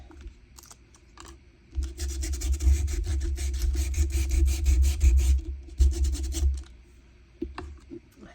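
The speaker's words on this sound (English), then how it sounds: "Should give it a bit of a sand." Sandpaper rubbing along a paper edge for a junk journal: a close, dense scratchy rasping in quick back-and-forth strokes, lasting several seconds, then stopping, with a few light handling taps before and after.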